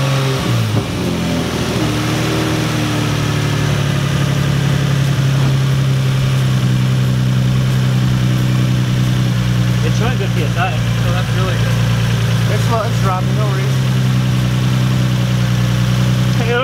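A car engine, apparently in an Infiniti G35, turns over and settles into a loud, steady idle close by, with a few brief blips of revving as people talk over it.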